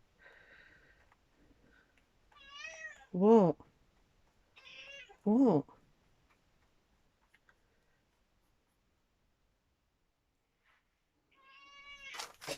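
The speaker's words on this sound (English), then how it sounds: "So you can stand there meowing at me." A domestic cat meows twice in loud, close, drawn-out calls a couple of seconds apart, with a softer meow near the end, amid a quiet room where a person briefly speaks.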